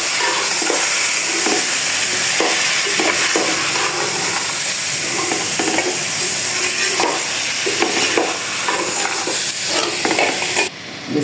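Whole masala spices and tomatoes frying in hot oil while being stirred, a dense, loud, continuous sizzle with a steamy hiss and occasional scraping stirs, and no voices.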